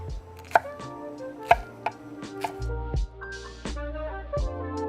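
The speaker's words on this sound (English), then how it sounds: "you wanna cut them a little bit on the thin side" A knife slices okra thin on a board, giving sharp, close taps at an uneven pace with a hum beneath them and no talking.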